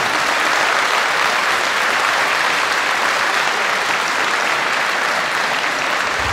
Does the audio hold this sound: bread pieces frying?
no